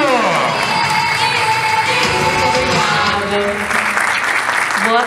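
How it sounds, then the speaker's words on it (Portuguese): Loud, sustained applause from a large seminar audience, with cheers and children's shouts mixed into the clapping throughout. "Senhoras e senhores, mais uma vez aplaudam Lucindo!"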